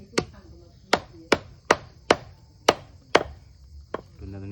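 A knife chops through a duck neck on a board, giving eight sharp, separate whacks at an uneven pace, each close and crisp with a brief ring after it.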